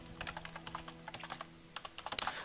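Rapid, uneven keystrokes on a computer keyboard while a command is typed into a Minecraft command block, close and clear with no other sound, ending in a quick flurry of keys.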